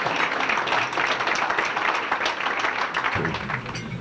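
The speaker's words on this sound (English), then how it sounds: "I think that deserves a round of applause." A crowd at a Hall of Fame athletics ceremony breaks into a round of applause, a dense continuous patter of many hands that thins slightly toward the end.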